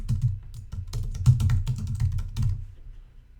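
Rapid, steady typing on a computer keyboard, clattering keystrokes in a dense rhythm that trails off near the end, close and clear with no talking.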